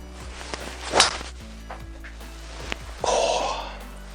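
A Callaway MAVRIK carbon-crowned driver striking a golf ball: one sharp, crisp impact early on, followed later by a softer rushing swish, over a quiet outdoor background.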